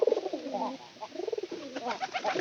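Pigeons in a loft coo in soft, throaty rolling phrases, several calls overlapping close by with short pauses between bursts.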